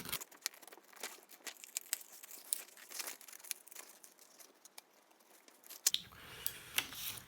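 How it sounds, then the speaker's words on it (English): Scissors snip and rustle through paper while a circle is cut out, a steady run of soft crinkling cuts close by, with a louder clatter near the end. "And then all you do is cut that circle out."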